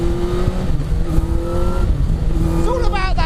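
An MK Indy RX5 kit car fitted with a Yamaha R1 motorcycle engine and sequential gearbox powers out of a corner, its high engine note holding steady and then climbing in pitch as it accelerates, with someone talking over it.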